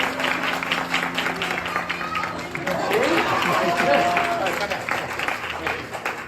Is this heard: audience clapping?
yes